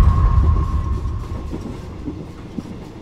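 Train wheels clatter along rails in a loud, close rumble for an audio horror story, with a steady tone fading early and a few distinct clacks toward the end, no voices.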